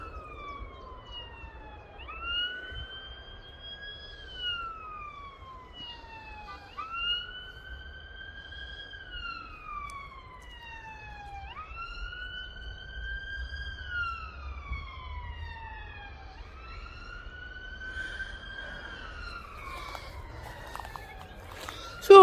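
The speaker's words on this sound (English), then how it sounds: "I'll just hold on a minute while this ambulance get past." An ambulance siren wails past a garden plot in repeated rising and falling sweeps, loud and clear at mid-distance, with faint traffic rumble underneath.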